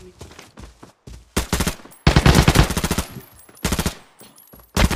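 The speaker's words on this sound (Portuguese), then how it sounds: "Ué, tô tomando tiro." A video game produces bursts of close machine gun fire, with rapid rattling volleys of varying length and short gaps between them.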